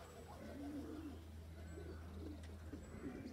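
Racing pigeons of mixed colours coo softly around a loft, with low murmuring calls and faint wing movement over a steady low background hum.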